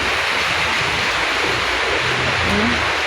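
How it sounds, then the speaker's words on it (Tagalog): Heavy rain pours down in a steady, dense roar with a windy rush, continuous and close throughout, with no voices. "May kalakasan ng ulan ngayon, ano?"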